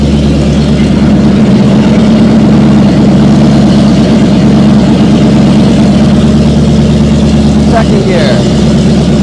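A 1950 Fargo truck engine runs loud and steady throughout, a low rumbling drone held close by during a test drive, with a brief rise near the end as the gears are worked.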